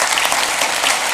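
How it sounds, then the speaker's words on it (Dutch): Audience applause at a municipal council meeting in Hardenberg, a brief burst of dense, steady clapping from a room full of people. "ik vind dat u een applaus mag geven voor"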